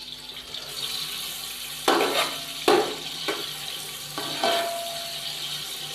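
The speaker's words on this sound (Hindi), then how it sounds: "ऑयल यहाँ पे गर्म हो चुका है, अब हम इसके अंदर प्याज शामिल कर देंगे।" Onions, about 200 to 250 grams, go into hot oil for Peshawari beef pulao. Loud sizzling bursts flare up as the onions hit the pan, then settle into a steady frying hiss.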